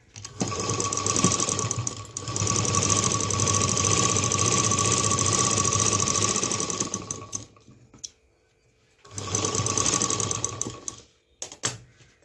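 A sewing machine runs in long steady bursts while topstitching raincoat fabric, a fast rhythmic mechanical whir that stops briefly and then restarts, close and loud.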